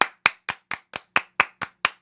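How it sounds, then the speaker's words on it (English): Single pair of hands claps ten times in a quick, even rhythm, each clap sharp and close with nothing else around it. "Give Island Girl a round of applause"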